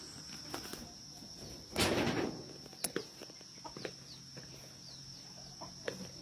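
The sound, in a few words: many chicks and fowl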